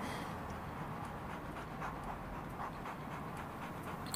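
A dog pants in quick, steady rhythmic breaths, close and fairly quiet, over a soft indoor background with no talking.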